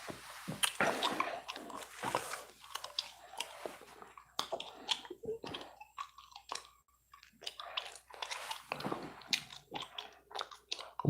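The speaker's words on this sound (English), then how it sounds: "with some gum chewing." Close, wet gum chewing with small crunchy clicks and squishy mouth sounds repeating in an uneven rhythm throughout, with quiet pauses between bursts.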